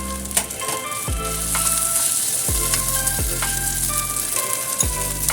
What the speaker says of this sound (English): When they become a little brown, then add in the pork meat